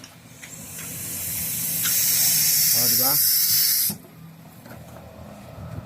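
Refrigerant gas hisses from the valve of a Samsung split-type aircon, a loud steady spray building for about three seconds and then cutting off abruptly, with a brief spoken word over it.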